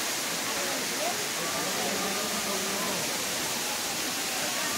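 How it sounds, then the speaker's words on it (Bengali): The Bamni Falls waterfall in Purulia's Ajodhya hills roars as a steady, broad rush of falling water, nearby and continuous with no clear breaks. "এই যে বামনি ফলসের ঝর্ণাটা"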